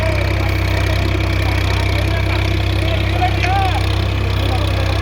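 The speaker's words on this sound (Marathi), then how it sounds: "आज 4-5 माणसं बसलेली असून सुद्धा ट्रॅक्टर न थांबता न टायर फिरवता एक नंबर चालत आहे" A Massey Ferguson 8055 tractor works a field pulling an MB plough, its diesel engine giving a loud, steady, unbroken drone from start to end.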